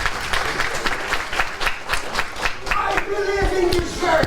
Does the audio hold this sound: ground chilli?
no